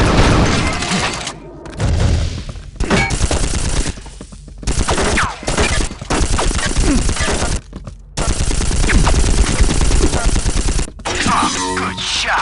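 Rapid bursts of automatic gunfire and weapon shots in the video game Unreal 2: The Awakening, loud and dense, coming in long runs broken by brief pauses.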